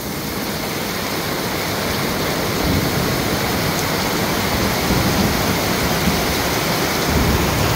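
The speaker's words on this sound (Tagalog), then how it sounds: "biglang bumuhos yung malakas na ulan" Heavy rain pours down steadily, a dense, loud roar of water drumming on surfaces that continues without a break.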